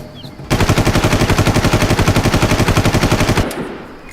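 Sustained automatic gunfire from the video game Far Cry, a loud, rapid, evenly spaced burst running about three seconds with a brief lead-in and fading tail, no talk over it.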